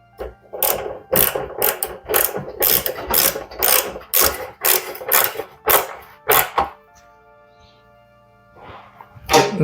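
A nut is tightened with a ratchet during repair of an LG condenser dryer, giving a series of sharp, close ratcheting clicks in rapid bursts for several seconds, then a pause and one more click at the end.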